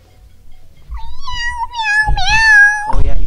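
A cat meows close to the microphone, a long, loud wavering cry that rises and falls, followed by a shorter call at the end.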